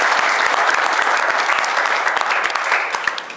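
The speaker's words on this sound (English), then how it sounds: "So can we clap for Shahbaz" An audience gives sustained applause for Shahbaz at a youth conference presentation, dense continuous clapping from many hands that thins slightly near the end.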